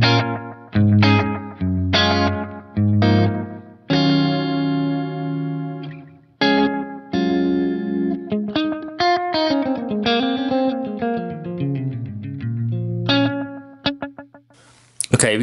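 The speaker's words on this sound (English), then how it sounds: "this recreates the character of vintage delay pedals that used a single low wattage MN3205 VBD chip for gritty repeats" An electric guitar plays through a Strymon Brig delay pedal in its MN3205 chip mode, picking sustained notes and bends. Gritty, slightly distorted analog-style repeats trail each note, loud and close, with no talk.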